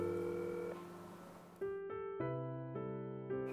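A telephone call being placed, with a tonal ring or dial signal entering after steady background music, sounding several clear repeating tones close and loud.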